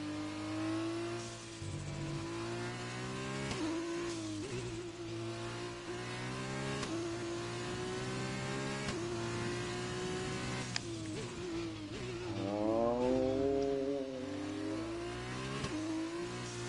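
F2 race car engines in a racing video game on the Belgium circuit, revving continuously and shifting pitch through gears, with steady loud drone and rising whine near the end, no talk.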